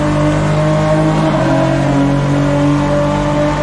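A race car in the sim racing game Automobilista 2 accelerates at full throttle, its engine a loud, sustained roar rising steadily in pitch, constant and close throughout with no speech.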